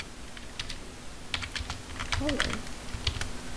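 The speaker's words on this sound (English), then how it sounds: "we're gonna type in something like" Quick bursts of keystrokes on a computer keyboard, clicking in short irregular clusters close by, with a voice speaking briefly partway through.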